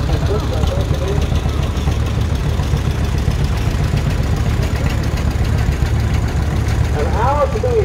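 A 1965 Farmall 656 tractor engine rolls by in a farm club parade with a steady, loud, low diesel rumble that continues without a break. A murmur of voices sits in the background.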